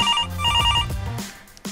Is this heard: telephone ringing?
yes